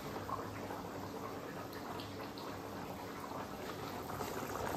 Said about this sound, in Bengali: দেখতে পাচ্ছ ঝোলটা টকবক করে ফুটছে, চিকেনটাও সেদ্ধ হয়ে গেছে।